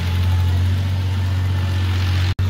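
A tractor engine churns a flooded paddy field for rice planting, a loud, steady low drone held throughout, broken only by a split-second dropout near the end.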